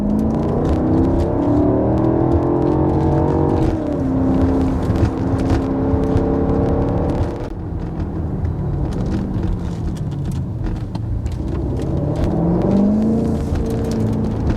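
A BMW X6 M Competition powers through a roundabout, its engine loud and close as it revs and pulls hard, gear changes shifting the pitch, with a deep rumbling drone sustained throughout.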